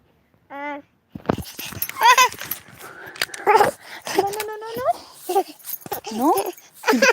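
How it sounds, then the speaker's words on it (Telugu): A pet dog lets out a short high whimper, then whines a few more times while people talk excitedly close by, their voices often covering the dog. "డాగ్ ఇది"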